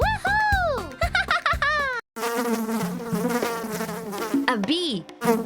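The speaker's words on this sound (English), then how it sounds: "A bee." A cartoon bee buzzes in a children's farm-animal programme, a loud, continuous drone with wavering tones that runs for several seconds after a short break, set against bright music.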